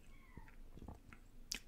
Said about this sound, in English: is meowing right now